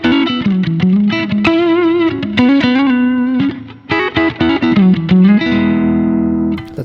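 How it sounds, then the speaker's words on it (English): Electric guitar runs through the compressor effect of a Zoom MS-100BT multi-effects pedal, playing a lively sequence of picked notes and chords, close and even in level, with no talking. "So let's try dynamic, a compressor"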